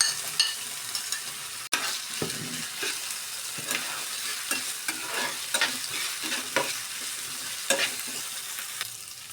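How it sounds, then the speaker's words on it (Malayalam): Onion with ginger-garlic paste and capsicum sautéed in a pan, a close sizzling hiss broken by repeated stirring scrapes and a spoon tap, with no voices. "അപ്പോൾ ഇതൊന്ന് നല്ലോണം ഒന്ന് വഴറ്റിയെടുക്കണം കേട്ടോ"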